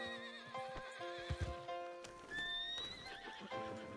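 Hooves clip-clop and a horse whinnies in a Western video game, a brown horse running toward the player, with a rising neigh over steady hoofbeats and game music.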